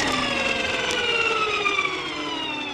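Electric Motion Epure electric trials bike under regenerative braking, a close, steady high-pitched electric whine with layered tones that slowly descend in pitch over a couple of seconds.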